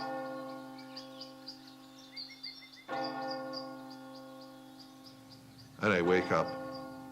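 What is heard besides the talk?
church bells ringing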